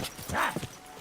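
Horse hooves clip-clopping in the video game Kingdom Come: Deliverance II, a short burst of hoof sounds with a brief whinny-like tone, close and fairly loud.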